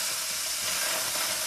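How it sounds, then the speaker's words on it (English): Green beans stir-frying in a pan without any oil give off a loud, steady sizzle and hiss that runs unbroken throughout, with no voices over it. "I am stir frying obviously green beans here"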